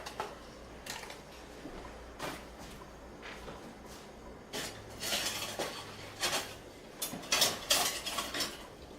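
Metal tongs clink and scrape against a pan while pasta is twirled and stirred for chicken scampi, giving intermittent clatters and rattles that grow busier toward the end, with no talking.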